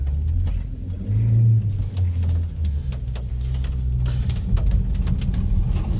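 A Subaru Sambar KS4 Japanese kei truck pulls forward on gravel in two-wheel drive, its small engine giving a close, steady low drone that rises briefly, with faint birdsong in the background.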